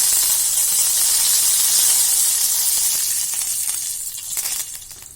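Cumin seeds and curry leaves sizzling in hot oil, heard as a loud, bright hiss close by that fades after a few seconds into lighter crackles.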